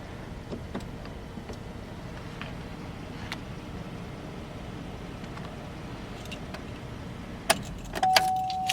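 A 2016 Chevrolet Traverse 2LT engine idles with a steady low rumble, then a few sharp clicks and a sustained electronic chime sound near the end as it shuts off.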